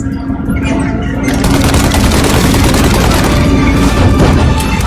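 Dense, loud gunfire from the Mafia Definitive Edition video game: rapid overlapping shots and booms rattle on without a break, close and harsh, with no talking.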